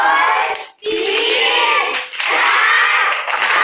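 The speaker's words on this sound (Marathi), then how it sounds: "नवीन टाळी वाजवा, नवीन टाळी. पावसाची टाळी वाजवा." Children clap a 'rain clap' pattern as a group, making a dense, continuous patter of many hands that pauses briefly twice and then resumes.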